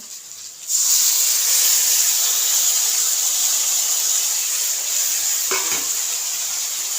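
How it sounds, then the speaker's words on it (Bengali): Boiled meat with onion and spices stir-fried in a little oil in a pan, a sudden loud sizzle that settles into a steady hiss, with one clatter of a spoon against the pan near the end. "এবারে এই মশলাটা দিয়ে ভালো করে এখন কষবো।"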